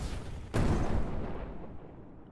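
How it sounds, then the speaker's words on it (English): A big video game explosion bursts in suddenly with a loud broadband boom, then rumbles and fades gradually over the next two seconds. "Big explosion!"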